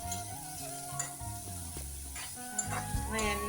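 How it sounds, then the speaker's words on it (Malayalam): Bitter gourd fries in oil with mustard seeds, a soft sizzle under busy metallic stirring and scraping, with clinks and some rhythmic tapping close by. "ഈ പാവയ്ക്ക നന്നായിട്ട് നമുക്ക് ഇളക്കാം."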